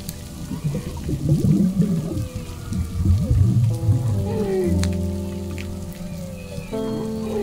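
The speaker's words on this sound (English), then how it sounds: "there's a whale again." Humpback whale vocalizing underwater: sweeping moans and tonal calls rise and fall, partly masked by splashing, bubbly water noise from a swimmer near the surface.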